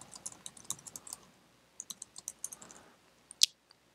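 Someone types on a computer keyboard in quiet, uneven bursts of light key clicks, pausing briefly midway and ending with a sharper tap.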